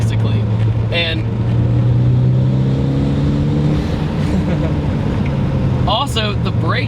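A Toyota MR2 Turbo fitted with a swapped JDM engine drones at steady revs from inside the cabin, a low continuous engine hum with a slight rise in pitch, as people talk over it.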